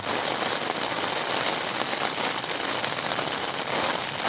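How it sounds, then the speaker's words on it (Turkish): Heavy rain pours down in a dense, constant hiss, loud and unbroken, with no voices, heard while camping in an abandoned building. "Tam yağmur durdu. Gidelim derken şiddetli bir şekilde tekrar bastırdı."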